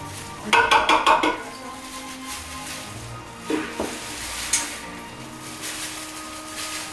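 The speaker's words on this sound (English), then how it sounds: "Next, I'm gonna add my can of tomato sauce." Metal utensil stirring and clinking against a pot as canned tomato sauce goes into crockpot chili, a quick burst of rhythmic scraping taps near the start, then scattered softer clanks and stirring.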